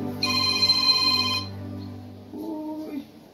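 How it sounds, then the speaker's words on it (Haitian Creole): A telephone rings with a bright electronic ringtone, one long tonal burst followed by a shorter softer chirp, close by and clear with no speech. "Téléphone qui a sonné là."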